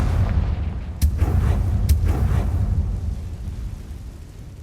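Explosive Confringo spell in Hogwarts Legacy bursts with a booming blast, two sharp cracks following close together over a heavy rumbling low end that slowly fades.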